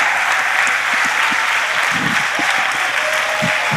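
Audience applause at a church gathering: a steady, dense wash of many hands clapping together, loud and sustained throughout, with no talk over it.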